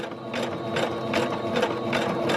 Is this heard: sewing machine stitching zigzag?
yes